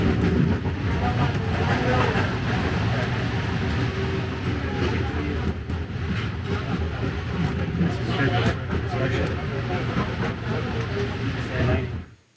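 A rail train running on the trip from JFK Airport toward New York City: a loud, steady rumble with rattling and clatter throughout, fading out at the very end.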